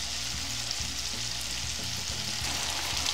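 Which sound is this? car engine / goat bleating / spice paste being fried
spice paste being fried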